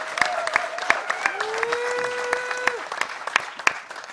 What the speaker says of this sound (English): give him a huge round of applause for the microcontroller workshop that he's been doing in the Hackerspace Village